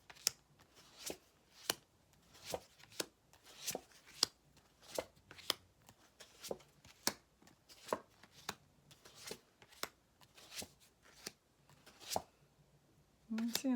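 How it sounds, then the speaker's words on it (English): Tarot cards being cut and handled: sharp, evenly spaced slaps and snaps of the deck landing, about twenty in a steady rhythm, close but fairly quiet, with no talking. "I'm going to go ahead and cut your cards"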